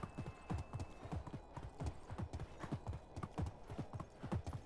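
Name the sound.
horse hooves clip-clopping in video game Medieval Dynasty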